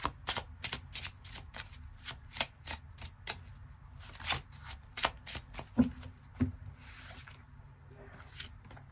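Tarot cards shuffled and drawn in a rapid string of close, crisp flicks and riffles, with a couple of soft thumps as cards are set down and no speech.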